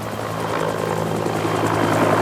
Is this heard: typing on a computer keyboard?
no